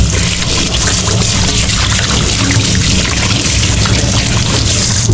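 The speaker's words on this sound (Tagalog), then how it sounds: "Ilinis na yung ating kamay. Ngayon, hugas tayo." Steady running water pours and trickles continuously at close range while hands are washed beneath it, loud and unbroken with no talking.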